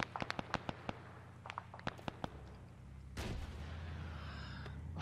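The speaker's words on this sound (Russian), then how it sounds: "Пошел пуск с РПГ." In the military video game Arma, an RPG launches and explodes: a quick run of sharp cracking shots, then a heavy blast that settles into a long, rumbling roar.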